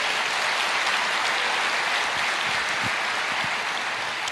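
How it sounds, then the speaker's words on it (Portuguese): Congregation in a Portuguese-language church service applauding steadily, a dense, even wash of many hands clapping that holds at a constant loud level for the whole stretch with no voices over it. "Pode aplaudir, porque o Senhor merece."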